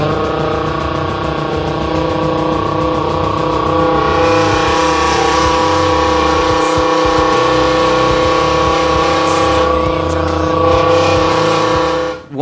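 A person imitates a Lamborghini engine with the mouth, holding a loud, steady, buzzing drone that swells slightly midway and cuts off abruptly at the end, close and with no talk.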